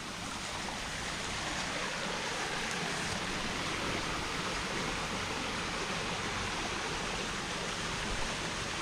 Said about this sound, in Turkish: Böyle 7-24 akan bir deremiz var.